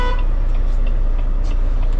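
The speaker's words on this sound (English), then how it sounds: "honk your horn twice." A tractor-trailer truck's horn sounds twice over a steady engine rumble before reversing, with brief honks standing out near the start and again toward the end.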